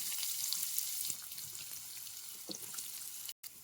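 Finely chopped onions sizzle in hot oil in a pan with three Guntur dried red chillies, a soft, steady crackle of frying with a brief clatter near the end.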